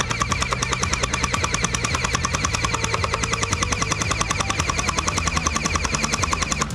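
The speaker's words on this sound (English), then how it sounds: "Now let's put it on full auto and see how fast this thing shoots." An XShot Hyper Gel Trace Fire gel blaster fires on full auto, a rapid, even stream of sharp clicking shots at about ten rounds per second, close and steady throughout.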